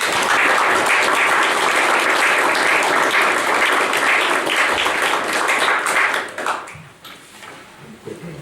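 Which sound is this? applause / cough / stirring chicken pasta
applause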